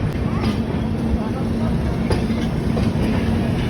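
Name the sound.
train moving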